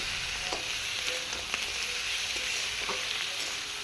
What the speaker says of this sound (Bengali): এখন এই চিকেনটাকে ভালো করে নাড়াচাড়া করে ভেজে নেব